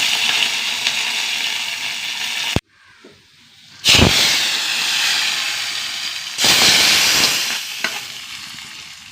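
Urad dal, dried red chillies and curry leaves dropped into hot oil, a loud close sizzle and hiss that cuts out briefly, then returns in strong bursts with stirring, no talk over it.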